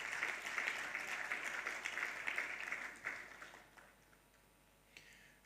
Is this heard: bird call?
no